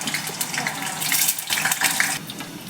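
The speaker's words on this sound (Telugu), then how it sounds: "అట్టికాయ ముక్కలు దీంట్లో వేసుకుని దూరగా వేయించుకోవాలి" Raw banana pieces sizzle and crackle steadily in hot oil, a dense, close frying hiss that swells and eases without pause and with no voices over it.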